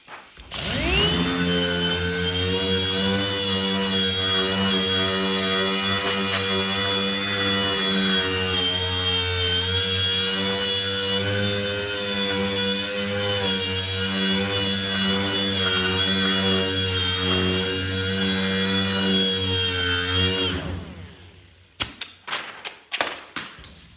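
An orbital sander held flat against a metal body panel while finishing dents, a steady loud whirring buzz for about twenty seconds that then stops, followed by a few sharp clicks and knocks.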